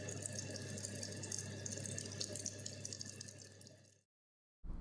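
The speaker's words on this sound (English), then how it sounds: "If you suffer from low or intermittent water pressure as shown here" Kitchen tap running under low or intermittent mains water pressure, a steady thin hiss of flowing water, close and even, cutting off abruptly before a brief restart.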